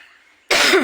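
After a moment of near quiet, a single loud, close cough bursts out abruptly.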